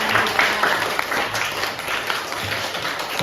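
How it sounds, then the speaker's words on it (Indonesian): A classroom of students claps together for a classmate who asked a question, a dense, steady patter of many hands at moderate loudness throughout. "Kasih tepuk tangan untuk yang bertanya"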